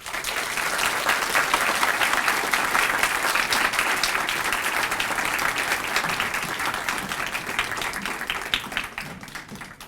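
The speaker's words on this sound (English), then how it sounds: "And another round of applause for our upper school Latin students and Miss West." An audience at a school Founders' Night fills the room with steady, dense applause for upper school Latin students, continuous and fairly distant-sounding for about ten seconds with no talking over it.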